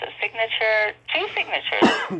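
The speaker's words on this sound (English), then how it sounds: "No, I coughed." A single cough bursts out near the end of a stretch of close conversational speech, with people talking before and around it.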